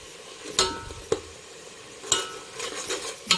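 Chopped mint leaves stirred into simmering dalcha in a pan, a soft sizzle under a few sharp clinks and scrapes of a spoon against the pan, spaced irregularly.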